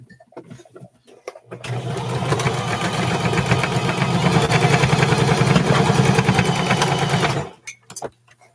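A domestic sewing machine runs a seam on McCall's M4364 short pants in one sustained burst of about six seconds, near and fairly loud, with quiet handling sounds before and after.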